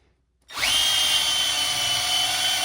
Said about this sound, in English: now that you took and kind of wire wheeled your area of paint down